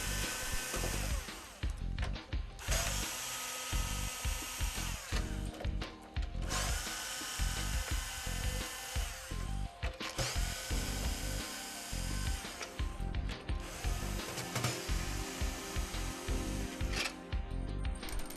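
A powered screwdriver backs screws out of the case of a PlayStation 2 console, several whirring bursts of a few seconds each with brief pauses between, close and steady.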